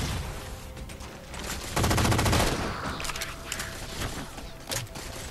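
Gunfire in the Halo 4 campaign, with a dense burst of rapid automatic fire in the middle, plus scattered shots and game effects around it.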